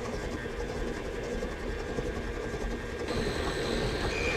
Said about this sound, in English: So all I'm doing here is I put the butter and the sugar in the KitchenAid